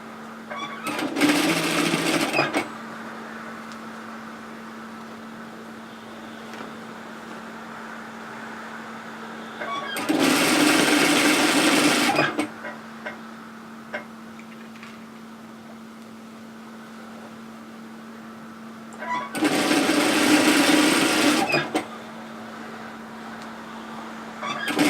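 A sewing machine runs in three separate bursts while stitching the shoulder seam of a woven kimono robe, each run about two seconds long with quieter pauses and a low steady hum between them.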